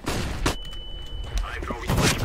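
CS:GO flashbang grenade thrown in a match, a short bang near the start and a tonal ring, with blasts and game noise around it under ongoing voice chatter.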